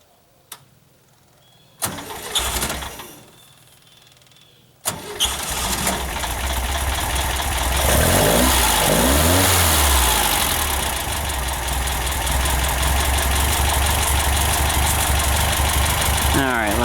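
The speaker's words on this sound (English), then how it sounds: "let's see if we can get it started" A car engine fitted with a Dellorto or Weber carburetor cranks and fires after a couple of short attempts, then catches and revs up loudly and roughly, close by, settling into a sustained high idle.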